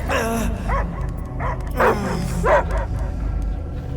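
A dog barks and yips several times in short bursts in a video game, Marvel's Guardians of the Galaxy, with whimpering tones between, over a steady low rumble.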